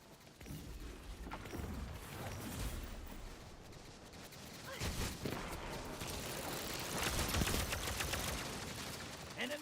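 Gunfire in Destiny 2 pops and bursts across a noisy firefight, with several sharper shots rising over a busy rumble of game sound and muffled voices.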